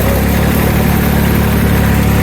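A diesel Sears garden tractor engine idles steadily up close, a loud, even low throb with a constant rumble and no talking throughout.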